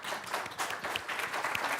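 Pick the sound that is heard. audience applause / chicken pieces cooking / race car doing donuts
audience applause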